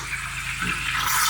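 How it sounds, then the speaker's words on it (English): A handheld frother whirs steadily through a peppermint mocha matcha drink, a close, continuous buzzing hum with a brighter hiss of foaming liquid rising toward the end. "And then I'm going to froth this."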